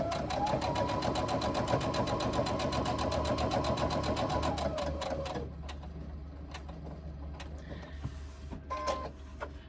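Sewing machine stitching a basting seam on a tote, a rapid, steady mechanical chatter close by for about five seconds, then it stops, leaving quiet room noise with a few faint clicks.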